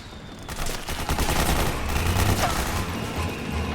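Submachine gun fire in Metal Gear Solid 4 rattles in a rapid, sustained stream of shots that stays loud and close throughout.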